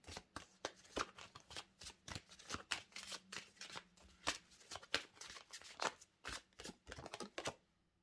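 Tarot cards being shuffled by hand, a close, rapid run of crisp riffling and slapping bursts that repeats irregularly throughout, with no talking.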